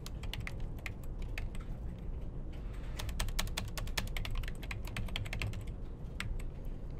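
Rapid, continuous typing of code on a computer keyboard, with dense irregular key clicks that stay fairly close and steady throughout, no talking.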